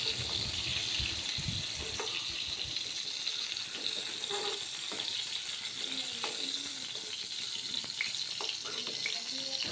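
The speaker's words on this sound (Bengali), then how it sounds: "এখন ওই তেলের মধ্যে ফ্রাই করে নিচ্ছি" Parboiled potatoes fry in hot oil in a home kitchen, a constant close sizzling hiss broken by scattered light clinks and a few stirring knocks, with no talk.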